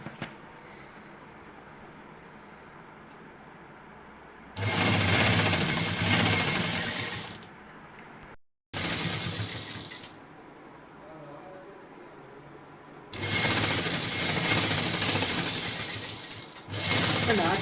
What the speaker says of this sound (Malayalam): അറ്റം വരെ കറക്റ്റായിട്ട് പിടിച്ച് സ്റ്റിച്ച് ചെയ്തെടുക്കാം കണ്ടോ.